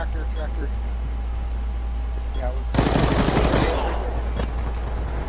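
A sharp burst of rapid automatic gunfire erupts in a video game match for about a second amid a steady background hum, with players' voices talking around it.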